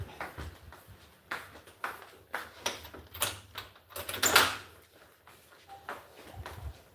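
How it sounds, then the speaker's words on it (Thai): An office door being opened after a fingerprint scan, a series of soft clunks and knocks from the latch and frame, with one sharper bright click in the middle, heard close in a quiet room. "ทำการเปิดประตู นะครับ"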